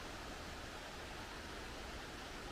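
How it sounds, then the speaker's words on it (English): Long Creek Falls waterfall in South Carolina, heard from a distance as a faint, steady broadband rush with no other sounds or talking. "the water is really rolling down there"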